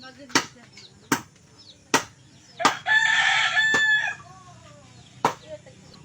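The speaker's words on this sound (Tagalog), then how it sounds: "maingay ang manok. Maraming manok." Rooster crowing and chickens on a rural provincial farm raising fighting cocks; one short crow rises in the middle while sharp, loud chopping knocks repeat about every second throughout.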